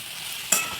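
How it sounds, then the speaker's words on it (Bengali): Onions and chillies being stirred in a hot frying pan: a steady soft sizzle with a brief, sharper scrape-and-hiss burst midway as the mixture is turned. "দিয়ে একটু নাড়িয়ে চাড়িয়ে নেবো"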